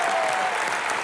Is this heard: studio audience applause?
yes